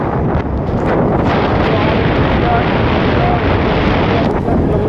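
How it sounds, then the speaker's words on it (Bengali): Strong wind roars steadily into the microphone of a rider on a motorbike near an open seaside-like spot, a loud continuous buffeting that nearly fills the clip. "আর এখানে প্রচণ্ড হাওয়া"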